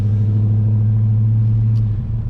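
A cammed Chevrolet Silverado truck idles with a deep, loping low rumble at a drag strip, steady and close, the lope easing slightly near the end.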